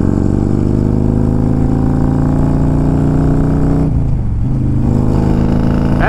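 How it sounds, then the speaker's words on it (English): A 130 cubic inch Harley-Davidson Road Glide motorcycle engine pulls hard in fifth gear, its loud, steady roar swelling as the throttle rolls on, with a brief dip near the end before it surges again. No one talks. "I rolled on the throttle in fifth gear and that thing took off"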